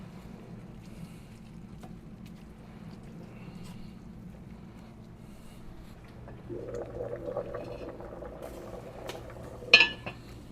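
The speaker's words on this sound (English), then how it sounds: "You can hear that Dutch oven right there boiling on the inside." Potatoes and onions boil inside a Dutch oven. A faint, quiet stretch gives way to soft, steady bubbling that builds in the second half, topped by one sharp metallic clink near the end.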